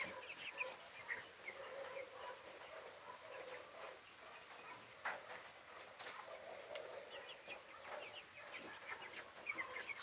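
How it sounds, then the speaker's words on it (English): Three-week-old broiler chickens on a farm in Jamaica cluck and peep softly in a continuous, scattered chorus, heard faintly at a distance without talk. "3 weeks old boiler chickens. Very curious animals."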